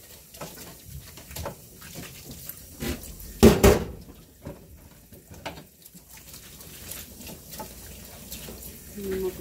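Tap water runs in a sink while dishes are washed, a patter of water with clinks and knocks of dishware and one loud clatter partway through, with voices talking at times.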